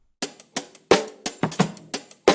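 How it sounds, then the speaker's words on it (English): A dry, punchy drum pattern of kicks, snares and hi-hats in a steady groove, loud and close with no other sounds. "This is actually based on a recorded drum loop"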